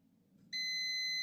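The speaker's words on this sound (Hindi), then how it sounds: "उधर बीप कर रहा है" A digital multimeter in continuity mode emits a sudden, steady high-pitched beep that starts midway and holds loudly without a break, after a low background hum.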